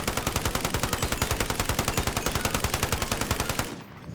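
A rapid-fire gun in Call of Duty: Modern Warfare shoots stopping power rounds in one long, loud, evenly spaced burst of about 40 shots, then stops abruptly.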